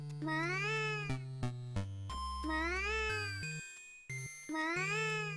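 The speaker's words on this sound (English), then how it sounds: "it's a cat that's being half-strangled" Cat meowing in a Mario video game: a stylized, musical meow repeated three times with rising pitch sweeps, interleaved with short synthetic tones and no talking.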